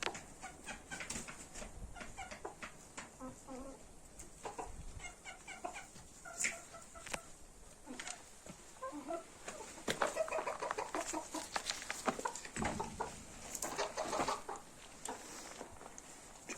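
Black Mottled Bantam Cochin chickens in a backyard coop cluck and chatter in scattered, overlapping bursts, fairly close and moderately loud, with no talk.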